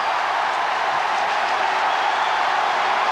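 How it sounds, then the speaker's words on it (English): A packed cricket stadium crowd at the 1996 World Cup match between India and Kenya in Cuttack roars as a boundary is struck off the first ball, a dense, sustained wash of cheering with no voices over it. "First ball, and listen to the crowd"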